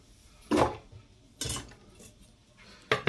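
A knife roughly chops a yellow onion on a cutting board, giving three separate sharp knocks about a second apart, close and clear with quiet between them.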